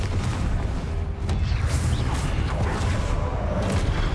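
A Confringo explosive spell cast in the Hogwarts Legacy video game, dense booming blasts and whooshing bursts piling over a loud rumbling battle bed, close and continuous.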